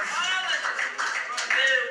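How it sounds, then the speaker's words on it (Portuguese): Church congregation clapping together for Christ during a Pentecostal service, a steady dense burst of applause that swells louder toward the end, mixed with voices over it. "dê uma linda salva de palmas para Cristo Jesus"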